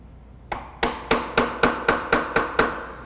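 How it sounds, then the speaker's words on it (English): A wooden mallet strikes a 3/4 inch chisel cutting into wood, nine sharp, evenly paced knocks close to the microphone, each ringing briefly before the next, with no talk. "3/4 chisel and make one cut."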